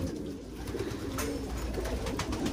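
Pigeons coo softly and repeatedly, low rolling calls overlapping one another against a steady background hum.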